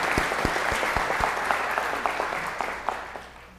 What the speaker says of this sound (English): And we need to applause her for that.